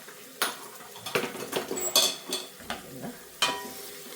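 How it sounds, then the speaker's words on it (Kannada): Spices such as chilli, coriander and garam masala being stirred and fried in a pan for tomato bath, with a metal spoon scraping and clinking against the pan in irregular strokes over a soft sizzle, close and clear. "ನೀವು ಸ್ವಲ್ಪ ಫ್ರೈ ಮಾಡ್ಕೊಳ್ಳೋಣ."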